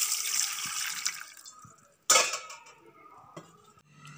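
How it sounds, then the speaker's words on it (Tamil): Water is poured onto tamarind soaking in a bowl for thuthuvalai rasam: a hissy splashing pour that fades, then one sharp splash and a few small drips, close by. "தண்ணி ஊற்றுறேங்க."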